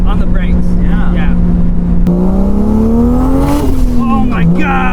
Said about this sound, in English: oh, that was a good flutter there